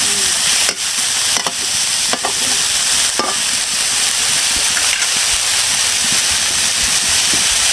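Small crabs deep-frying village-style until crispy, a loud dense sizzle and hiss throughout with sharp scraping stirs at intervals.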